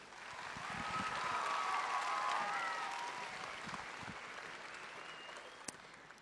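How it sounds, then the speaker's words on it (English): A youth arts festival concert audience claps in a warm round for a performer before an interval, steady moderate applause that swells and then slowly fades, heard from a distance in a hall. "Please give Cathy a big round of applause."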